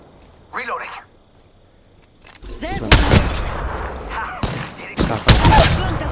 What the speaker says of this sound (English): Shooting some punk guns! Taking fire!